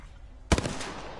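A loud, close burst of rapid gunfire from a Hemlok rifle in the battle royale shooter Apex Legends, several quick shots that start abruptly and ring out, with another shot beginning at the very end.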